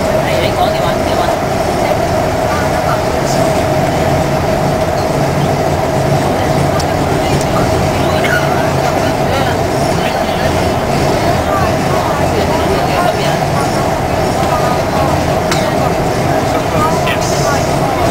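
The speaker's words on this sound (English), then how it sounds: "The train is approaching the station." A Hong Kong airport people mover train rumbles steadily throughout, a constant loud hum with a faint tonal whine and occasional clicks, as if riding inside the car.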